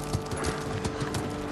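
Horse hooves clopping in rapid rhythm from a randomly grabbed mount in the video game Ghost of Tsushima, steady and close over faint background noise, without a clear neigh.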